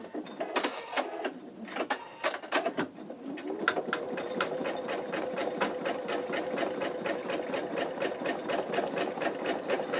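An embroidery machine stitches out an in-the-hoop wallet, its rapid mechanical needle strikes repeating in a steady, close, loud rhythm, first in uneven bursts and then in a continuous run.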